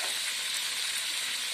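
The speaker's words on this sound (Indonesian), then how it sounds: "Goreng dulu 2 ekor ya" Red devil fish fry in a pan during a home family meal, a steady loud sizzle and hiss of hot oil filling the whole stretch without speech.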